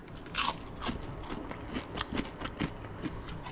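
Crunchy fried potato crisps being bitten and chewed at close range, a loud first crunch followed by a run of sharp, irregular crackling bites.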